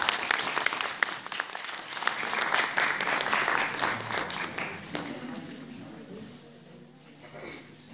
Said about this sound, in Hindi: तालियों से वेलकम कीजिए सेमन हरीश जी का।